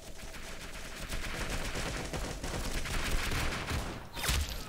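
Video game gunfire in Roblox Arsenal, a dense run of rapid shots and bursts filling the clip at moderate level with a sharper burst near the end.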